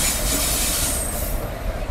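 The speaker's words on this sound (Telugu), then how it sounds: "సో ఇది మన వచ్చేసి మన కృష్ణ ఎక్స్ప్రెస్, ఆదిలాబాద్ నుంచి తిరుపతి" Krishna Express running from Adilabad to Tirupati, passing close by as a steady, loud roar of wheels and carriages with a faint high squeal and hiss, unbroken for the whole stretch.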